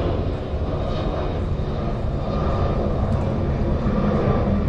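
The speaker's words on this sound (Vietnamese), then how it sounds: "các bạn có thể nghe tiếng máy bay gầm rú các bạn ha" Jet engines of a large Qatar airliner roar at an airport, a steady, broad, loud rumble with hiss that holds without a break and with no talk.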